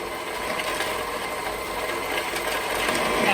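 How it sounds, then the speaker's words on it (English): A sewing machine winding a bobbin, a steady high-pitched mechanical whir that holds constant and grows slightly louder toward the end, heard close with no talking. "once I see that it's really winding the bobbin really nicely and evenly, I will put the pedal to the metal"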